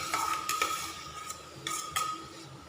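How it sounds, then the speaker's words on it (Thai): Garlic and shallots stir-frying in pork fat for pad see ew, a soft sizzle under quick clinks and scrapes of a metal spatula against the pan, close and brief. "เทกระเทียมกับ อมแดงลงไปผัดกัน"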